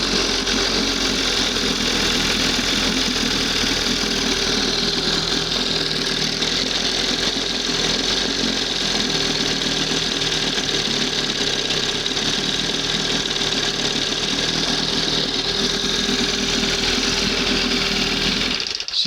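An old 20 hp Johnson outboard motor idles steadily and close, a continuous even mechanical drone with a faint rapid pulse that carries through unbroken without talk.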